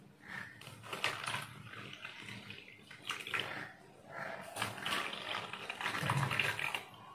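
Water is poured into glasses for making homemade water candies, giving faint trickling and splashing in several separate bursts with short pauses between them.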